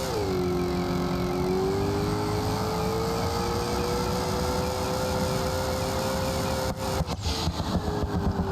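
A twin turbo Chevrolet Nova with big tires in BeamNG.Drive revs hard in a loud, sustained engine drone that climbs steadily in pitch, then breaks into rough, stuttering bursts near the end.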